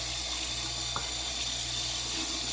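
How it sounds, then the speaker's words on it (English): Steady running water flows close by, like a tap rinsing something, with a faint brief knock partway through. "Get some water on there so you can try and rinse it off."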